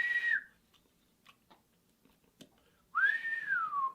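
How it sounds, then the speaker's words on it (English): A person attempts to whistle with a dry mouth, producing two short, airy whistled tones: a brief one at the start, then a longer wavering one after a near-silent pause, both close and alone. "I was trying to whistle,"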